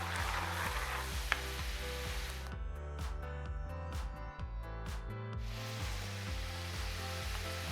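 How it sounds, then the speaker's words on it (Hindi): Chopped onions frying lightly in a pan give off a steady broadband sizzle that drops back midway, partly masked by louder background music throughout. "इसमें प्याज ऐड करेंगे। इसको हम हल्का सा फ्राई करेंगे।"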